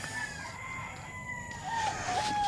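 A rooster on a gamecock farm crows once, a drawn-out rising and falling call heard at moderate distance over steady outdoor background noise.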